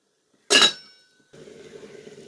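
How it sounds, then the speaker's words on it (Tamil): A lid set down on a cooking pot while making a Tamil manathakkali keerai kootu (black nightshade greens with toor dal), one sharp metallic clink with a short ringing tail, then a steady low simmer or hiss. "அப்படியே மூடி போட்டு க்ளோஸ் பண்ணிடலாம்."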